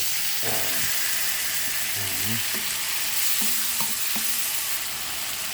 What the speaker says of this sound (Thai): หมูบดลงไปคั่วนะครับหมูบด มันจะคั่วจนหมูสุกนะครับ